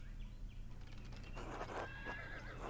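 Horses in Pentiment whinny loudly over a low droning background, with soft clip-clop hoofbeats nearby, all within a few seconds.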